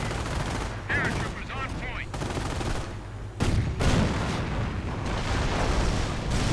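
Booming artillery fire and scattered gunfire from a wartime strategy video game rumble under a talking commentator, with heavier blasts landing near the middle.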